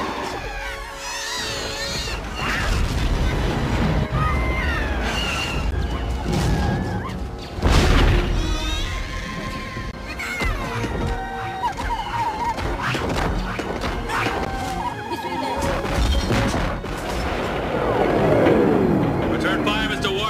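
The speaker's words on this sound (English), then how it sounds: "Lieutenant Worf, fire phasers on full with a simultaneous spread of torpedoes" Star Trek starship combat with phaser fire and a spread of torpedoes hitting, heavy booms, whooshes and rumbling impacts over sustained noise, with voices speaking through the battle.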